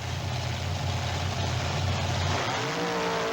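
A race truck at a 1996 Canfield truck and tractor pull holds a loud, steady engine roar that rises in pitch near the end as it launches off the line. No one speaks.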